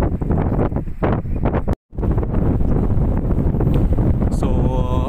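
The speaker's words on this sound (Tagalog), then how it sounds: "Sobrang lakas na ng hangin dito, pero sige lang." Strong wind buffets the microphone on a white-sand island beach by clear sea, loud gusty roaring with a short drop-out, while people talk over it.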